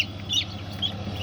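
A few faint, high-pitched peeps from newly hatched chicks over a low background hum, brief and soft.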